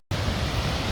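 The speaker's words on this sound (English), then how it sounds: "So the waterfall flow is pretty intense today." A waterfall near Mendenhall Glacier in Juneau, Alaska, runs with intense flow, producing a dense, steady roar of rushing water that starts abruptly and holds constant and loud.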